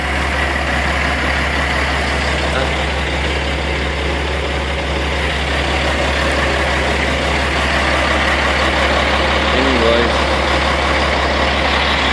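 A truck engine idles nearby beside a roll-off trailer, a constant low rumble that holds steady throughout with no talk.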